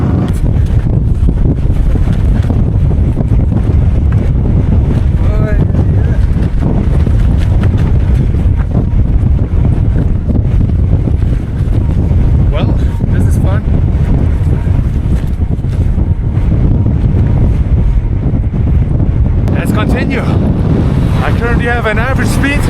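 Strong gusting wind roars steadily across the microphone on an open mountain cycling road on the Karakoram Highway in Xinjiang, a loud buffeting rumble that fills the whole stretch with no break.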